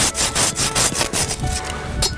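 A hand saw cuts through a tree branch in quick, regular back-and-forth strokes, each rasping pass close and crisp, the rhythm loosening slightly toward the end.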